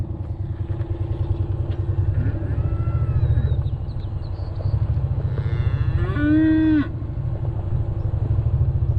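Cattle on a summer pasture lowing, with several loud drawn-out moos over a steady engine rumble from a nearby vehicle, and no speech.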